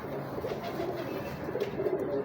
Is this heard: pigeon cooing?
yes